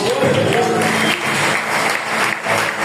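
A church congregation applauds during a sermon, a dense and loud wash of clapping that holds steady for several seconds, with a voice partly audible beneath it.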